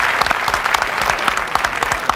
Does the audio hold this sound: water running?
no